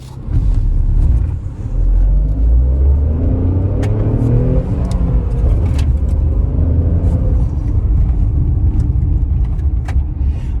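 A 2021 Tata Punch compact SUV drives on a road, its engine and tyre rumble loud and continuous as it accelerates, with occasional small rattles and clicks and no speech.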